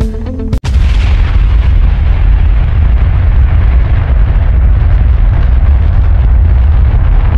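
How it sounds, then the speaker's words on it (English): The ISRO GSLV F-16 rocket launches from Sriharikota with a sharp initial crack, then a sustained, heavy, thunderous roar that stays loud and constant throughout, with no voices. "ISRO's GSLV F-16 rocket launched the world's most advanced Earth-observing radar satellite"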